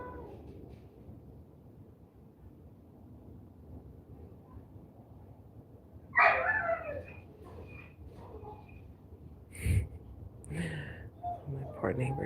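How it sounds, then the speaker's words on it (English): A neighbor's dog outdoors in Arizona at sunset gives a distant whining cry and a few faint barks over wind noise, partly under a person talking. "My poor neighbor's dog is crying."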